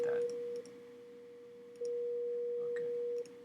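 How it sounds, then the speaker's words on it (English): A pure 480 hertz sine test tone hums steadily, cutting out briefly before returning at a louder level, with faint clicks over a quiet background hiss. "with this sample frequency of this sine wave, 480 hertz"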